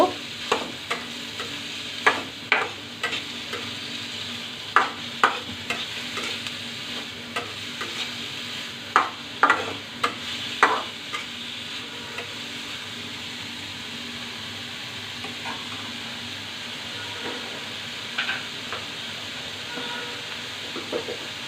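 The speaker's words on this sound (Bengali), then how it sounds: "পেঁয়াজটাকে আমি কিছুক্ষণ বেজে নিব" Onions frying in a pan for a prawn dish give a steady sizzle, broken by a series of sharp clacks from stirring that come in clusters early on and thin out later, with no talk.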